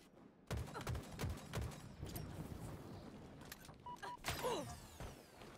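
Rapid gunfire from a shooter video game in a Live Fire Strongholds match: bursts of shots and impacts fire in quick clusters, fairly close, with a sharp louder volley near the end.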